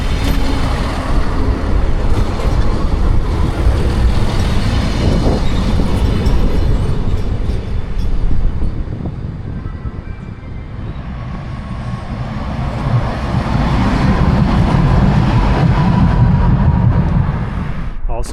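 A train pulling into the station in Liberec, Czechia, a continuous loud rumbling roll with wheel and rail noise that dips briefly midway and swells again, heard close by.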